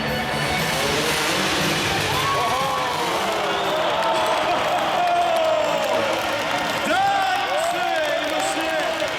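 A competition audience applauds and cheers in a steady, dense roar throughout, while an announcer talks loudly over the crowd.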